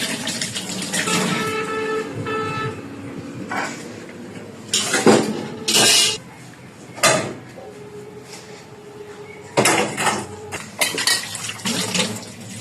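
Duck eggs clatter and clink against a bowl as they are washed, with water splashing between bursts of sharp knocks and scraping, close by with uneven pauses.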